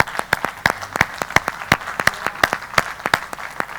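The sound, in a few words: applause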